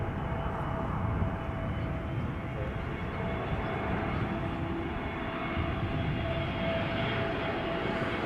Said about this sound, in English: EasyJet arriving from Dubrovnik, A320neo